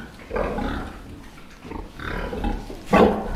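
A pig on a farm grunts in several close, loud bursts with short gaps, the last one the strongest, over a steady barn background.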